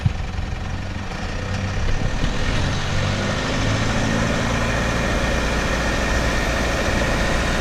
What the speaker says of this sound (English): You're over-revving your engine like that.